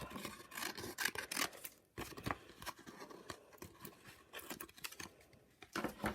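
Scissors snip and trim through a bumpy paper collage in a run of quick, close cuts with short pauses between, paper rustling faintly alongside.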